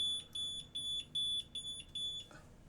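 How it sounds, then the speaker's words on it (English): A smart home water leak sensor alarm beeps in a steady series of sharp, high electronic pulses, about a dozen short bursts, fairly close and clear, ending abruptly. "It should stop beeping here."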